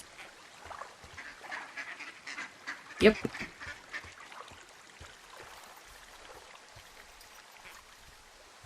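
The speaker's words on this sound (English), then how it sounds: "Weird bird sounds." Ducks quack and other birds call by a lakeshore in the video game Firewatch, scattered calls over a soft stream-like background, with one louder burst midway and a short spoken word.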